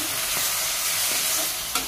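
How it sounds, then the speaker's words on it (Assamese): Ground narasingha, bhedailota and sukloti leaves frying in a pan, a dense steady sizzle with faint stirring scrapes and a soft knock at the end. "এইখিনি দি অকণমান সময় এনেকৈ ভাজি তাৰপিছত পানী দিম।"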